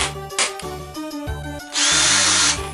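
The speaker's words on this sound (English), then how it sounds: "there is the battery, there is the drill bits, and there is the drill" A cordless drill whines in short bursts, starting and stopping several times, then runs steadily at high speed for about a second, loud and close with no talking.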